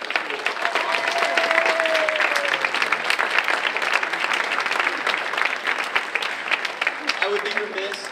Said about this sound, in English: One more round of applause for the amazing achievements of the school.